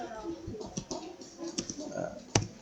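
Keystrokes on a computer keyboard while a document is typed in Microsoft Word, light irregular clicks scattered through the clip under a speaking voice.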